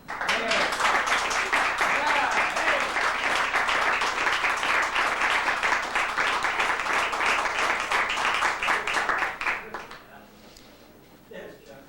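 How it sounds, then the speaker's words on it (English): Audience at a poetry reading applauds with dense, steady clapping for about ten seconds, then it drops away into quiet room tone. "I'd like, I think, a round of applause just for Chuck and Linda"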